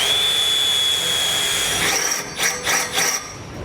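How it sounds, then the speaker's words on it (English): A power drill with a 3/8 bit bores into the steel bumper beam of a 2014 Honda CR-V, a steady close high whine with the pitch dipping in several short bursts as the bit bites. "drill straight into our bumper beam"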